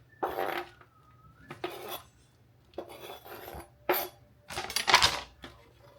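Handfuls of mushrooms dropped into a pan for a salmon and Brussels sprout meal, heard as a few separate bursts of soft clattering and scraping with quiet gaps between them, fairly close and moderate in level.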